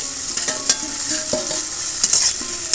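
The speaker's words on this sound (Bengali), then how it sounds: "এখানে মাছের তেল আর চিংড়ি মাছগুলো ভাজা হয়েছে অনেকটা।" Shrimp and hilsa fish oil frying in a wok: a continuous close sizzle punctuated by sharp metallic clinks and scrapes of a spatula stirring.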